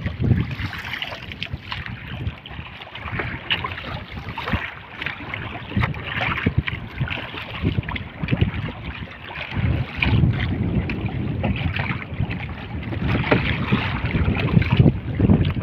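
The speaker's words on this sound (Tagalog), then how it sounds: "Lakas ng hangin." Strong wind sweeps across a fishing boat at sea, buffeting the microphone with a loud, rumbling, gusty roar that surges and swells throughout, mixed with the motion of the boat on the water.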